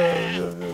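A sheep bleats once, a short wavering close call on a farm in Ibi Village in DR Congo, with a faint hum underneath.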